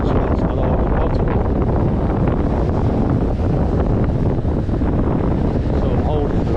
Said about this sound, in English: The wind at the time is that strong.